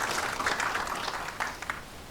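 Audience applause at an evening alumni launch event at the Nairobi Safari Club as a nursing director comes up to the podium, a fairly soft, steady patter of clapping with a few sharper claps near the end.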